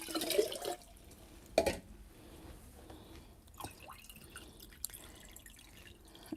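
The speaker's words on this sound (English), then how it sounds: "I'm gonna add some more water" Water poured into a jar of pitted dates, heard as a couple of short splashy bursts and faint trickling drips, close and quiet against a low room hiss.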